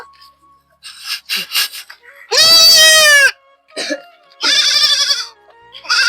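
A goat bleats loudly and close by in a village setting, with one long wavering cry and a second shorter one, plus a few fainter bleats and snorts between them.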